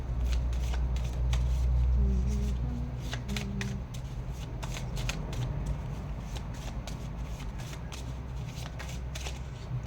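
Oracle cards shuffled by hand, a steady close riffling and sliding that runs continuously for about ten seconds with no talking.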